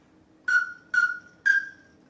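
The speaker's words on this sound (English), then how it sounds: "It's the Pintail whistle." Three short whistled notes from a pintail duck whistle call, evenly spaced about half a second apart, each a clear tone with a slight fluttering trail, alone and close.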